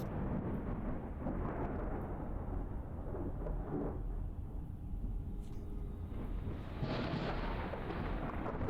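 Thunderstorm ambience in the video game STASIS, a deep continuous rumble of thunder with a heavier roll near the end, fairly quiet and without voices.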